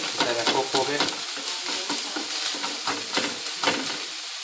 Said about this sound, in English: I'm just going to saute the red onions just before adding the meat